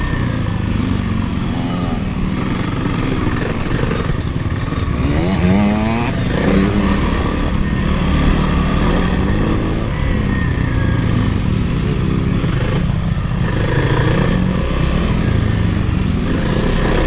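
A Kawasaki KLX300R dirt bike engine drones steadily in second gear, a loud, close, continuous chugging with a tractor-like beat that holds from start to finish, with no one talking.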